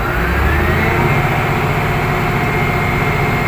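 A Komatsu GD705-5 motor grader engine runs at high idle, a loud steady diesel drone holding a constant pitch without a break.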